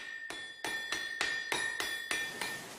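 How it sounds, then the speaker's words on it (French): A 300 kg water-powered hydraulic hammer strikes iron in a steady rhythm, about eight sharp metallic blows with ringing overtones, evenly spaced and fairly loud, each decaying before the next. "actionne un marteau de 300 kg, capable de frapper le fer jusqu'à 120 coups à la minute"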